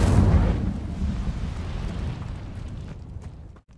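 A fiery Incendio spell bursts in Hogwarts Legacy, a loud roaring whoosh with a deep rumbling low end that slowly fades, then cuts out near the end.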